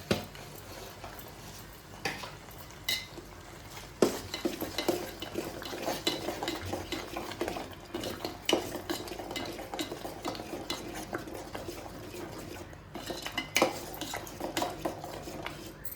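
Ginger curry being stirred in a pan, with repeated spoon scrapes and clinks against the metal over a faint simmer, heard alone at close range throughout.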